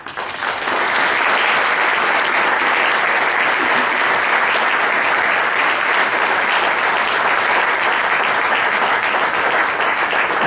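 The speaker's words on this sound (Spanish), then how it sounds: "y pido un aplauso para ustedes" An audience of teachers' supporters breaks into loud, sustained applause at a ceremony, dense clapping filling the hall evenly for about ten seconds without pause.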